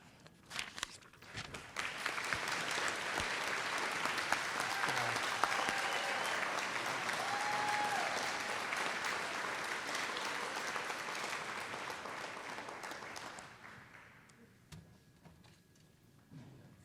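Sustained audience applause at a nontraditional school's commencement ceremony swells quickly, holds steady and loud for over ten seconds, then fades away with a few scattered claps.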